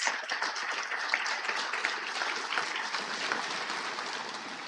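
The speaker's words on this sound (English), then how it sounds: "So one more round of applause for the award winners at" Sustained applause from a commencement crowd honoring award winners, a dense, even wash of many hands clapping throughout with no pause.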